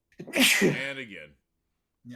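A single sharp, close sneeze from a person in a podcast conversation, followed right away by someone talking.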